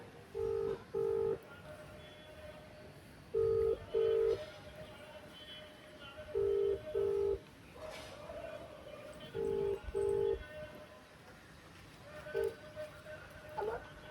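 Touch-tone keypad beeps as a mobile phone dials a call on speaker, about nine clear tones mostly in quick pairs spaced a few seconds apart, over a faint background murmur.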